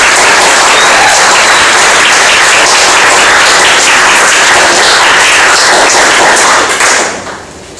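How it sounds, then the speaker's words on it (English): A large university audience at Sydney Uni gives a loud, dense round of applause that holds steady for about seven seconds, then quickly fades away. "So I'd like to please join me in giving a round of applause for them."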